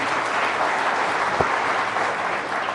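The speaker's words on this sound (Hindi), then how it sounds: "अनुराग ठाकुर जी के लिए जरा जोरदार तालियां हो जाएं प्लीज।" A large audience at the Rising Bharat 2024 event applauds loudly, a dense, continuous wash of clapping that stays steady throughout.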